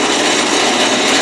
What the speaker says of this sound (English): got my drill press running as slow as it'll go